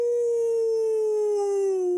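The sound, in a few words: person imitating a wolf howl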